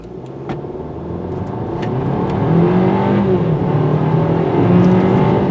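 A small 1.6-liter turbocharged engine in a 2024 Hyundai Kona N Line revs and accelerates with a thin, buzzy drone that climbs steadily in pitch and loudness, close up and continuous.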